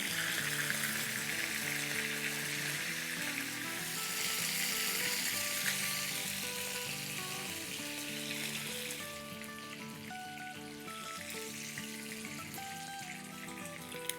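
Chicken kababs fry steadily in hot oil, a dense, close crackling sizzle that runs throughout, with a few faint clinks and stirring touches and no talking.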